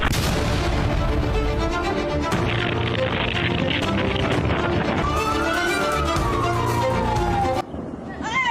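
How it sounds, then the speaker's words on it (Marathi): A fireworks factory in China explodes in a loud, continuous barrage of booms and crackling blasts, with a whistling tone sweeping across the din before it cuts off. "दृश्यांवरून आपल्याला लक्षात येईल स्फोटाची तीव्रता किती मोठी होती"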